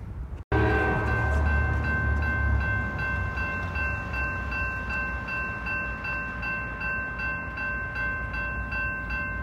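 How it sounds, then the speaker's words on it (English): A long Norfolk Southern freight train rolls by on a CSX line, a steady loud rumble of wheels on rail with rhythmic clicking and high metallic squeals throughout, no talk. "Got another train coming."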